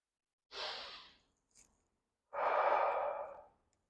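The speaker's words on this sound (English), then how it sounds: "Just a nice deep breath in the nose and relax." Two slow, deep breaths through the nose during a mobility drill, each a soft airy rush, the second longer and louder, separated by a brief pause in an otherwise quiet setting.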